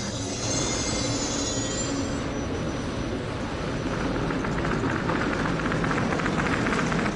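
Steady loud rumble of the Red Arrow, a Soviet-era luxury train in Russia, at a station, with a high metallic squeal fading early on, continuous and close, no voices.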